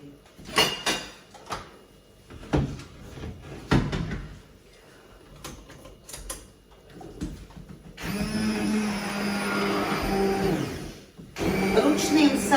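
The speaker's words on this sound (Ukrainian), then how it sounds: "от і я перебиваю зручним блендером" A hand blender purees pumpkin soup straight in the pot, its motor whirring loudly for several seconds after a stretch of clattering handling noises, then stopping briefly before starting again.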